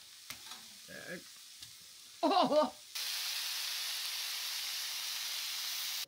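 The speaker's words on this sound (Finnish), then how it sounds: "En ole koskaan paistanut näin paljon sieniä kerralla." Large batch of mushrooms frying in a pan at a cabin, a loud, steady sizzle that starts abruptly after a short exclamation and brief talk, then hisses on evenly.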